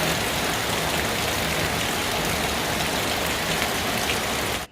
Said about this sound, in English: we've brought the rain and thunder and lightning with us. It's absolutely down outside.